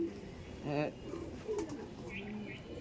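A pigeon coos briefly, a soft low warbling burst, against a background of faint murmuring voices and other birds.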